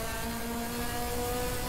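Steady engine drone of a race car in the Assetto Corsa driving game with the DRM Revival mod, holding a fairly even pitch at moderate loudness with no talk.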